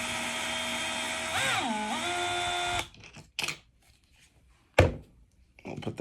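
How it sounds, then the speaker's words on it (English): A powered Torx driver whirs loudly for nearly three seconds, backing out the center bolt of the starter pulley on a Husqvarna 562XP chainsaw. Its pitch dips briefly mid-run before it stops, followed by scattered clicks and a sharp knock. "So I'm going to take the same Torx that I used on the screws for the clipper."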